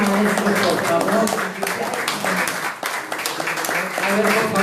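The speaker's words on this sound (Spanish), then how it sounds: "Demos un aplauso a los 3 maestros, por favor" Audience applause at a Latin American literature talk, a steady, fairly loud patter of clapping that runs throughout, mixed with voices talking over it.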